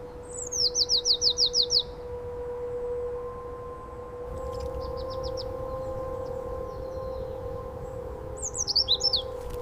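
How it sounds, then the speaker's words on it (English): Rapid trilled chickadee calls come in short bursts at the start and end, over a steady low hum of background noise. "Chickadees hop between branches, calling their familiar two-note song"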